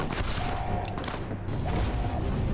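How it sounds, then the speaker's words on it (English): Video game gunfire in a Mojave wasteland setting, a dense rattling fusillade of shots with muffled booms, loud and continuous throughout. "Oh lord, I'm getting shot at though."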